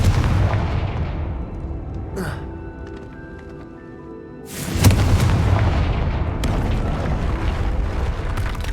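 A Confringo explosion spell in the game Hogwarts Legacy bursts with a loud boom near the middle, followed by a sustained rumbling roar, with earlier crackling and a soft whoosh beforehand.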